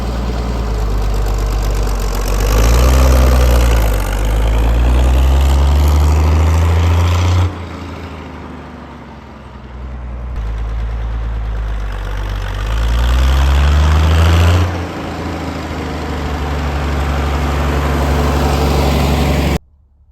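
A Case 30 series tractor runs while disking a field. Its loud, deep engine throbs close by and keeps rising and falling with load, drops briefly partway through, surges again, then cuts off abruptly at the end.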